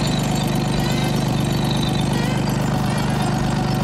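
A compact tractor's engine chugs steadily in low range four-wheel drive, a close, even, slightly knocking diesel-like drone that continues without a break.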